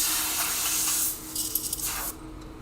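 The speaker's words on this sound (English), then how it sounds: "So we're going to spray some green." Limelight green paint sprays in steady hissing bursts onto a She-Hulk bust, close and continuous, then eases to a quieter spitting spray with a few short pulses before cutting off.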